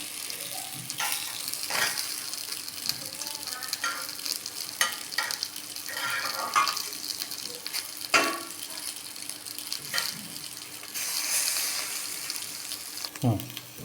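Fish sizzling and frying in one spoon of oil inside a Healux pressure-style cookware pot, a steady crackling hiss with occasional clinks of pieces being turned and a brief tap-water splash near the end.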